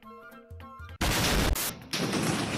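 Explosion in Minecraft: after a tonal game sound, a sudden loud, broadband crashing blast bursts in and rumbles on. A second surge follows moments later, both close and dense.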